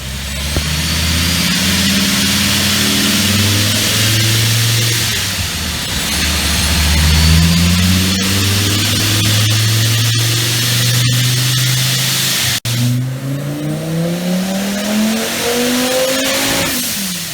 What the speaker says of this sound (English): we're going to go inside and do some dyno pulls now